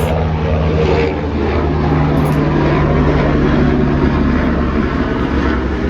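Loud, steady engine roar of a helicopter overhead, a constant droning rumble that fills the whole stretch without a break.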